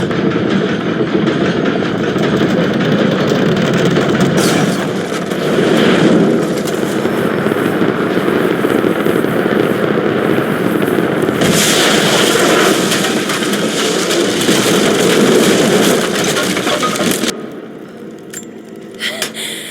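An aimed heavy weapon fires in the video game Rise of the Tomb Raider, a loud sustained rumbling roar with surging blasts that cuts off abruptly near the end, leaving quieter debris sounds.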